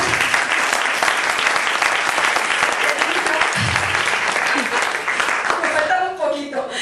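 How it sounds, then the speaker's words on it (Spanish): An audience applauds during a speech, a loud, steady wash of clapping that holds throughout, with a few voices and a brief low thump near the end. "Le agradezco muchísimo el aplauso."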